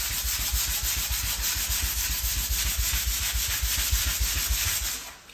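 Steady, close rasping of a surface being rubbed down with abrasive before painting, continuous back-and-forth strokes at even loudness, fading out at the end.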